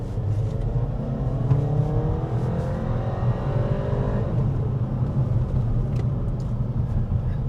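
A Hyundai Creta N Line's exhaust drones from inside the moving car, a continuous loud low rumble with engine tone rising through the revs and no talking.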